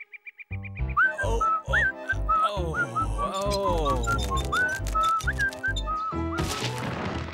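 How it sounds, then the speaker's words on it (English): A cartoon character whistles the same repeated tune in a looping melody of bright, sliding notes over rhythmic thumping, with voices and other sounds mixed in. "Must you always whistle the same tune?"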